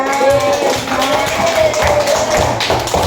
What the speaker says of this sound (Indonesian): Tepuk tangan di depan ya.